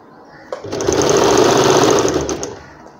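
An umbrella frock's flared seam gets double-stitched on a sewing machine: a close, loud, even motor whir with rapid needle ticking that starts abruptly, runs about two seconds and then winds down.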